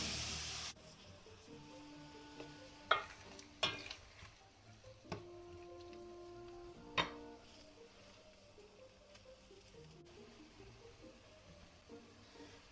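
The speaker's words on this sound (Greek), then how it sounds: "Και τα τσιγαρίζουμε." Onions sautéing in oil in a pan for a mussels meze, a soft continuous sizzle with a few sharp clinks and taps of a utensil against the cookware.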